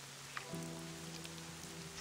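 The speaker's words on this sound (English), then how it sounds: "Hallelujah, it's raining city." Rain falling in the Black Desert video game city, a steady soft hiss of drops alongside sustained game music tones, with no talking.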